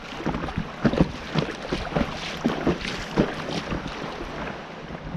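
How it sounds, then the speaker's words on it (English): A tailwind buffets the microphone while kayaking on the River Spey, giving a rough, gusty rumble with repeated soft thumps and splashes as the paddle strokes. "we're just picking up a tailwind"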